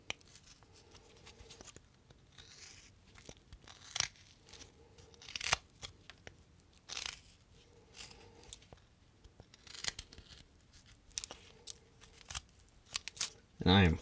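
A knife making chip cuts in wood while carving a Halloween bat: soft scraping, slicing strokes and small clicks recurring at close range, with quiet speech running under them and a louder rustle at the end.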